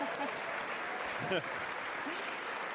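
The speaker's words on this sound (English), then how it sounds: "That's worth a round of applause, isn't it?" An awards-night audience claps in a faint, even patter for a few seconds, with a voice briefly rising through the middle of the sound.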